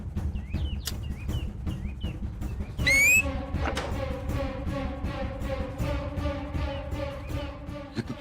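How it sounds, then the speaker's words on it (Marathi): A person whistles with the mouth in a Marathi TV serial scene, short repeated chirpy whistles, then a rising tone and a sustained warbling whistle over background noise. "इथं तोंडाची शिट्टी."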